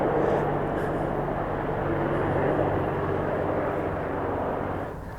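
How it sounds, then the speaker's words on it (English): Helicopters flying overhead at night near a site called Britain's Roswell, a loud, steady engine and rotor drone that fills the air and eases off slightly at the end. "And now we've got the helicopters back again."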